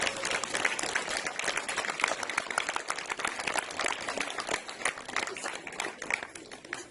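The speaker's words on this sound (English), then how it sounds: "let's give a round of applause" An indoor audience at a business launch event in Norway claps steadily, a dense, even wash of applause that holds for several seconds and tapers slightly at the end.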